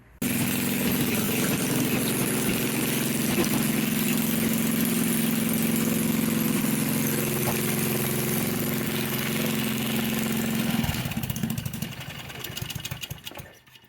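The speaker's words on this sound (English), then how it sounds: "This is going to be the first start with this header, and I'll give you a listen on what it's like." A go-kart engine fitted with a new exhaust header starts for the first time and runs loud and steady at a rough idle for about eleven seconds. It then drops off and sputters near the end.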